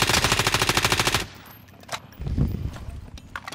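Rapid automatic gunfire from a first-person shooter game, a loud, fast, evenly pulsing burst lasting just over a second that cuts off abruptly, followed by quieter scattered game noises and a few distant thuds.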